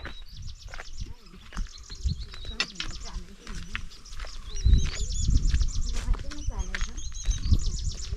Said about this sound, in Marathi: पाखरांचा किलबिलाट बघा किती आहे